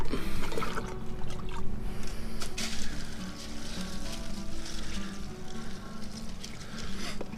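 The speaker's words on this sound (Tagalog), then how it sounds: "basain po natin ulit para mag-flat" Water poured over a garden mulch of small sticks in a backyard garden, a steady splashing, trickling wash that runs close and continuous for several seconds with no speech.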